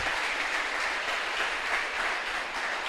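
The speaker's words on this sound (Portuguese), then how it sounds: "Você pode aplaudir o Senhor?" A church congregation applauding during a sermon, a dense, steady wash of clapping from many hands that fills the space evenly and continuously, with no talk over it.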